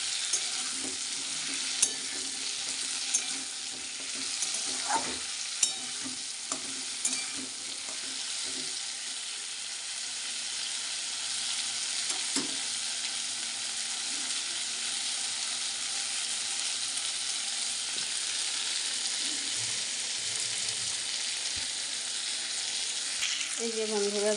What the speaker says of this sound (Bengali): দেখো ভালোভাবে ভাজা হয়ে যাচ্ছে লাল লাল করে